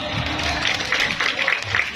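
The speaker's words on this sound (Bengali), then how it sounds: "ওনাদের সবার জন্য একটা হাততালি দেই আমরা।" Audience applause at a stage show, dense clapping throughout with a steady crowd wash and no clear speech.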